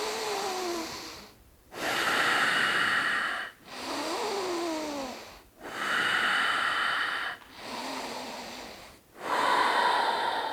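Forceful, intense breathing: five long, loud breaths in a steady rhythm, each a noisy airy rush broken by a brief silent pause, recorded close up with no speech.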